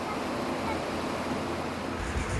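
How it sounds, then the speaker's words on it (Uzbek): A small waterfall in an Alpine mountain valley, a broad steady rush of falling water with wind buffeting the microphone. "Mana bu tomonda yana bir kichikroq sharshara turibdi,"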